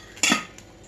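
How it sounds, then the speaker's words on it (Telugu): A metal biryani pot is set down on the stove for heating, giving one sharp clank followed by a faint rattle in a home kitchen. "బిర్యానీ గిన్నె పెట్టుకోవాలి"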